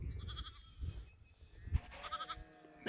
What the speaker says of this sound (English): Oh, that's a pretty lamb. Look at him.